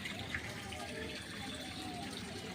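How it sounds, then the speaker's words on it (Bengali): Water pours steadily into potted plants with cracked, dry soil, a continuous gushing splash close by that lasts the whole moment. "তো এখন গাছগুলোই জল দিয়ে দিই।"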